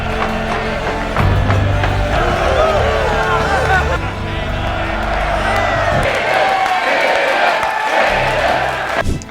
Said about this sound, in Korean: 군주의 목숨을 살린 그는 용사들의 환호를 받게 되죠.